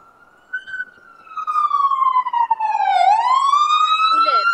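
An emergency siren wails on a New York street, loud and close, sweeping steadily down and back up in pitch as the vehicle passes, with faint traffic underneath.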